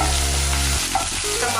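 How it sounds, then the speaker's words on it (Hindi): Ginger garlic paste frying in a pan for a sauce, a loud continuous sizzle with stirring and scraping, close up and without talk. "अब इसमें ऐड करेंगे जिंजर गार्लिक पेस्ट, जो कि बहुत ही बढ़िया फ्लेवर देगा सॉस को।"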